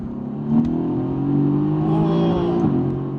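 A 2017 Mercedes-AMG GT S accelerating hard in second gear, engine note rising steadily in pitch with a brief shift-like dip near the end, loud and close from inside the car.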